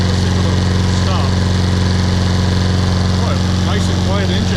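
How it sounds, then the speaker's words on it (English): Troy-Bilt 21-inch 675 Series lawn mower with a Briggs & Stratton engine idles steadily up close, a constant loud mechanical hum with no change in pace, with faint background sounds over it. "Oh, nice and quiet engine."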